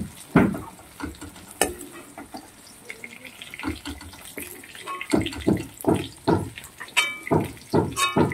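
Chopped green chilli, onion and garlic fry in oil for a prawn and pumpkin dish, a light sizzle punctuated by sharp spatula knocks and scrapes that grow quicker and more rhythmic in the second half.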